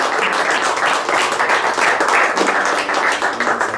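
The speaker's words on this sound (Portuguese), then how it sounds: "Você pode aplaudir o Senhor" Loud, dense applause from a church congregation clapping for the Lord during a worship service, sustained and close with an even roar of many hands.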